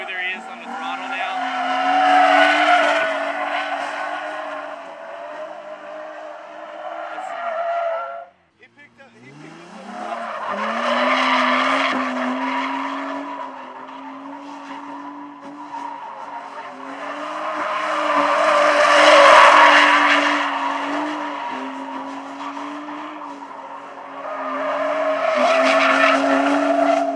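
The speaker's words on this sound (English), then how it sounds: "going around a tight barrel, that takes the most control just about in drifting" A car drifting around a tight barrel, its tires squealing in long sustained skids over a droning engine, with a short pause midway before the squeal resumes and swells again.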